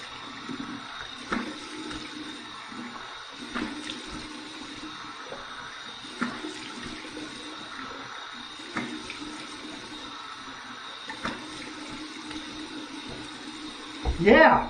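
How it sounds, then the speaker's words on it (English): Warm water runs steadily from a tap for a shave rinse, a constant hiss with occasional splashes, ending in a louder burst of splashing. "here's my warm water rinse"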